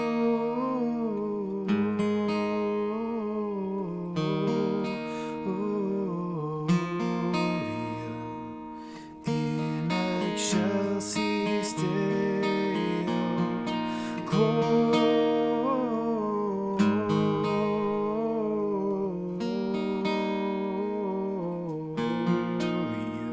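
The chorus of Angels We Have Heard On High played on guitar as picked chords in a steady rhythm, with a quiet voice singing along underneath.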